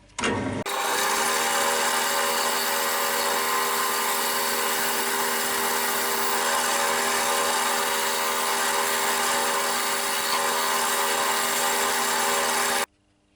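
Wood turning on a lathe while a bud vase is shaped: after a brief start, a steady, loud motor hum with a constant whirring drone runs for about twelve seconds, then cuts off abruptly.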